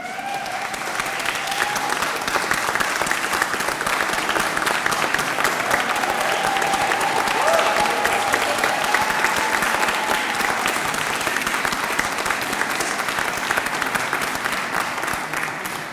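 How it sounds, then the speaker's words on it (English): Graduates stand and applaud their families at a college graduation ceremony, a long, loud, dense applause from a large crowd holding steady the whole time. "give those families a well-deserved round of applause"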